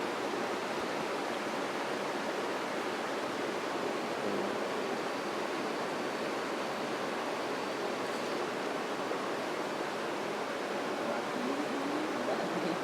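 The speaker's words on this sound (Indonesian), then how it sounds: "di sana teh sungai dan airnya keruh sekali" A river running high and murky in the rainy season, a steady, even rush of flowing water heard alone without any talk, holding the same level throughout.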